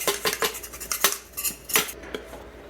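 A utensil scraping and knocking around the sides of a pan to loosen a baked soda bread, giving a run of close, sharp metallic clinks and taps at an irregular rhythm, with no talk.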